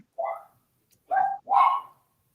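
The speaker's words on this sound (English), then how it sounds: "Whose dog is barking?" A dog barks three times at moderate distance, one short bark followed after a pause by two closer-spaced barks, with no one talking over them.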